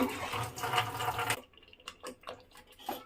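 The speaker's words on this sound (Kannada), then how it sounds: "ರುಬ್ಕೊಂಡಿರೋ ನೀರು ಹಾಕೊಂಡ್ತಾ ಇದ್ದೀನಿ ಗಟ್ಟಿ ಆಗ್ತಾ ಇದೆ" Water is poured into a ground tamarind mixture, a short splashing pour followed by quieter trickles and small liquid sounds, close and fairly faint.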